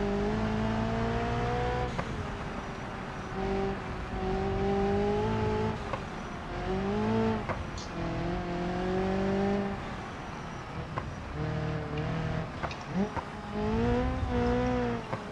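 A rally car climbs a difficult mountain stage in BeamNG.drive, its engine revving up and dropping with each gear change, with tire noise and bumps from the rough road, loud and close throughout.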